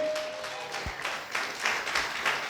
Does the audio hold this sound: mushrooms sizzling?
no